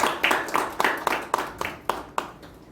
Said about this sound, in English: Let's give them a thunderous round of applause once again.